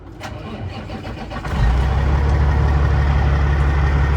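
A semi truck's diesel engine cranks briefly and then catches, settling into a loud, deep, steady idle rumble close by, with no talking over it.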